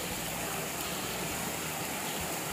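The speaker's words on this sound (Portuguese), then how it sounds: "Galera, olha o que a água tá fazendo aqui na frente dessa casa." Floodwater rushes past in front of a house after heavy rain, a steady broadband roar of flowing water that stays loud and constant throughout, with no pauses.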